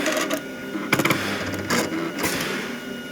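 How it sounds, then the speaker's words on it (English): A Juki AMS-210EN programmable sewing machine homes up after its ready button is pressed: a few short mechanical clatters and motor whirs, close and fairly loud, with no one speaking. "the machine will home up"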